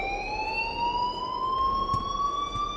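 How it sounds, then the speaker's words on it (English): In the video game Life is Strange, an alarm siren wails steadily with a slowly rising tone, sustained and fairly loud, with no talking over it. "please turn off that alarm since that's your job."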